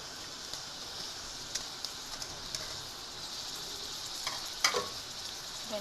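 Onions frying in about half a cup of oil for a masala base, a soft continuous sizzle with scattered crackles and pops, alone and fairly quiet.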